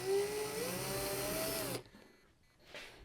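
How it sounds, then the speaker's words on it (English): A power drill drilling into the center of a board whines steadily at close range for under two seconds, then cuts out, leaving quiet room noise. "as I'm drilling into the center of that board"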